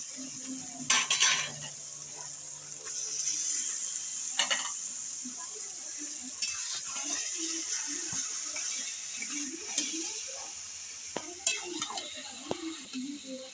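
Taro leaves and fried spices are stirred in a pan with soft sizzling, a utensil scraping and clinking against the metal in irregular strokes throughout.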